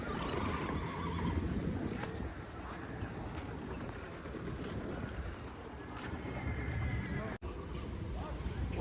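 A horse whinnies amid outdoor background noise at an animal market, with people talking nearby and a brief sharp click near the end.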